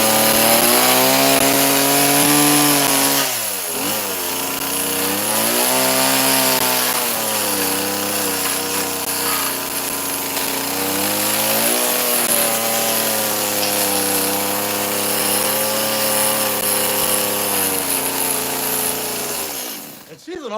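A chainsaw carves wood into morel mushroom shapes, its engine droning loudly and continuously with repeated rises and falls in pitch as the cut load changes, running steadily for most of the stretch.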